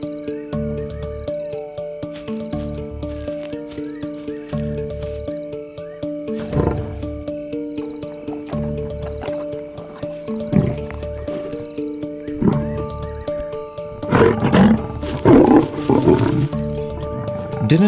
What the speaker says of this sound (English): Dinner time in a lion family can be a noisy affair.